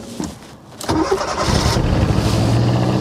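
A car engine, just fitted with a repaired starter, cranks briefly and catches, then settles into a steady, fairly loud idle close by.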